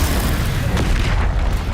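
A Bombarda blasting spell detonates in Hogwarts Legacy, a dense, roaring boom with a sustained crackling rumble filling the short moment.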